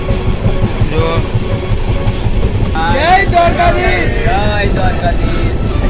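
A passenger train rolls toward Dwarka station with a constant rumbling clatter heard from inside a carriage, while voices call out and chant over the steady rail noise.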